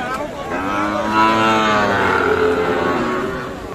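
A Sahiwal calf at a cattle market gives one long, loud, drawn-out moo close by, rising and then fading over a few seconds.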